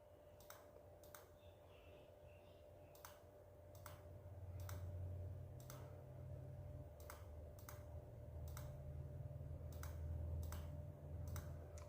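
Computer keyboard typing an IP address, sparse individual key clicks spaced irregularly over a low steady hum and background rumble, quiet and close.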